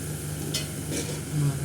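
Chopped onions for a Hyderabadi biryani frying in a pan, browned to a deep chocolate colour and stirred, giving a steady close sizzle with a couple of brief scraping strokes and no talk.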